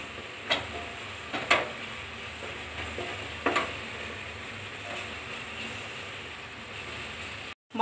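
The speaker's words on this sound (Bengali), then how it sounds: "অদা রসুন কঞ্চা স্মেল গলা পর্যন্ত আমি কষাই নেবা" Ginger garlic paste sautéing in a pan for mutton curry, a low steady sizzle with a few sharp scraping stirs, close and fairly quiet with no talking.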